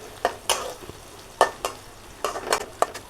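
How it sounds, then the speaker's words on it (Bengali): Food frying in a home kitchen pan while being stirred, with repeated sharp scraping strokes and spatters over a low sizzle, close and busy, with no voices. "আরও ভেজে নিতে হবে।"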